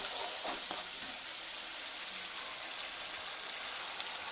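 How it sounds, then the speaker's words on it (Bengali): Spices sizzling in hot oil in a pan, a steady close hiss with a few faint stirring scrapes near the start. "তেল গরম হয়ে গেছে, এবার সব মশলাগুলো দিয়ে ভালো করে কষিয়ে নেবো"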